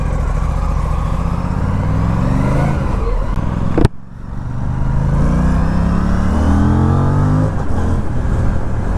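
Aprilia Tuono 457 motorcycle with 1423 km on it accelerating hard from close by, engine pitch climbing steadily, cutting briefly around a gear shift near the middle, then rising again through the next gear.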